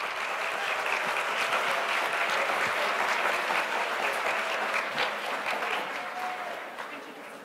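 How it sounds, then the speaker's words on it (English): A crowd applauds graduates at a 2017 university commencement ceremony in Santa Barbara, sustained dense clapping holding steady for several seconds before tapering slightly. "Please give a round of applause for our Pathway Master graduates."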